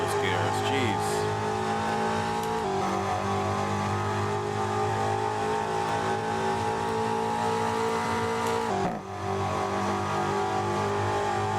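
A BMW engine revs hard and climbs through its gears at high speed, a loud continuous drone rising in pitch with brief dips at each shift, heard close up.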